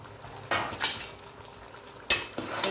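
A metal plate is lifted off a pot of steamed chicken, giving a few sharp clanks and scrapes of metal on metal, with quiet gaps between the bursts.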